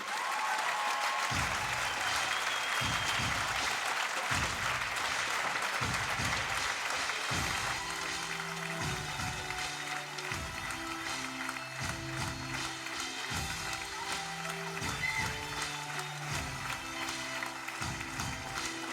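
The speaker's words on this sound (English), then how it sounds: "the fans still applauding" Badminton fans at the Yonex Denmark Open 2013 men's singles final applaud the medalists, Chen Long and Lee Chong Wei, with a steady, dense roar of clapping that carries the whole stretch over a low, pulsing background.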